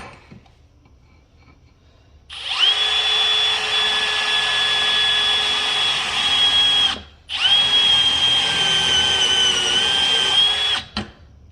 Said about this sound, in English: We're just trying to drill out the top little bit where it was mushroomed in, or mushroomed out